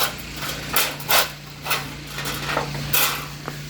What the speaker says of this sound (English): follow it up with a ball peen hammer